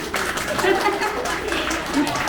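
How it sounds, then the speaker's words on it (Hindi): A small audience claps together at a Triveni Kala Kendra Aipan art event, a dense patter of hands lasting a couple of seconds while a host's voice carries over it. "तालियां हो जाए।"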